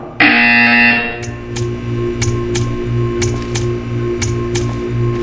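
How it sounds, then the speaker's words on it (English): A loud electronic buzzer blares close for under a second in Portal 2, a game featuring GLaDOS and Wheatley. Then a steady low hum runs under a regular series of sharp, evenly spaced ticks. "You will hear a buzzer."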